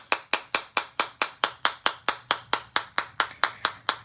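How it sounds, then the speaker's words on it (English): A bone folder is tapped on a surface in a quick, even series of about sixteen sharp, crisp knocks, close and clear, with no talk over them. "I'm just going to take my bone folder and we're just going to tap it."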